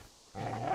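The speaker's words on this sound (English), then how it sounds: "Get away, you beast!" A dog growls in the video game Kingdom Come: Deliverance, a short, low, rough rumble that starts abruptly and holds steady at moderate volume.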